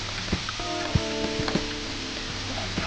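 Corn kernels sauté in a pan with sugar, salt and masala, giving a steady close sizzle. A few soft clicks and scrapes of stirring sound over it.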